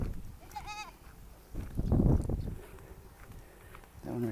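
A goat gives a single short, wavering bleat close by during a street walk in the Philippines, followed by muffled thumps and rustling outdoor noise with no clear talk.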